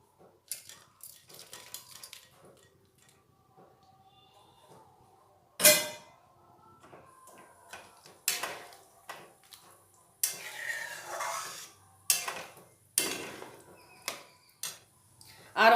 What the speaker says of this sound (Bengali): এবারে ওতে দিয়ে দেব এই ভেজে রাখা মাছগুলি।